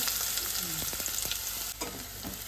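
Garlic and chopped onion hit hot oil in a frying pan for a crab curry, giving a steady loud sizzle with scattered stirring scrapes throughout and no talk.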